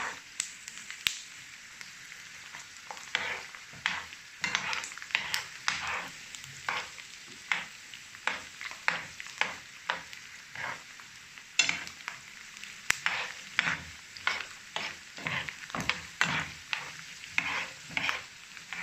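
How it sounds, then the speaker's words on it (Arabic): Almonds fry in hot oil, sizzling under repeated stirring that raises crisp scraping clicks in an irregular but steady rhythm, close and moderately loud, for a Moroccan mini pastilla. "المهم انا معاكم على ما نزيد البيض وانا نحركوا شويه اللوز"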